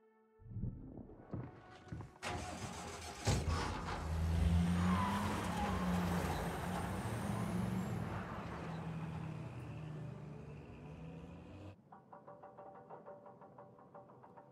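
A car engine in the Dying Light 2 video game fires up and revs loudly, then holds a steady rumbling drone for several seconds before cutting to quieter background sound.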